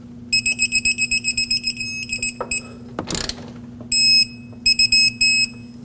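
A torque wrench beeps while tightening a bolt to 94 foot-pounds on the upper control arm of a 2005-2021 Nissan Frontier 2WD: rapid, bright electronic beeps in clustered runs, a brief ratcheting burst midway, then longer and shorter beeps.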